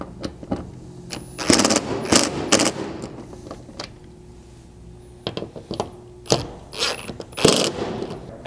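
Roof rack mount bolts on a 3rd gen Toyota 4Runner are tightened with a ratchet, giving close, loud bursts of rapid clicking in two main groups separated by a quieter pause.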